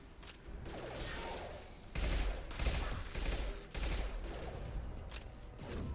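Bursts of rapid gunfire from a Mass Effect firefight, several loud volleys with short gaps between them and dense, crackling shots layered over constant battle noise.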